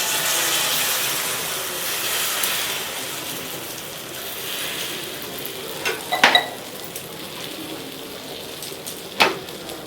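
Eggs mixed with chilli, onion and salt sizzling in a pan, with a steady frying hiss and a few sharp spatters and scrapes partway through and near the end.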